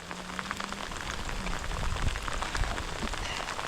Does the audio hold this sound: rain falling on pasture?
yes